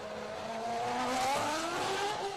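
David Coulthard's Formula 1 car pulls away from a pit stop on soft tyres at the 2007 Belgian Grand Prix, its high engine note rising in pitch as it accelerates, loud and close.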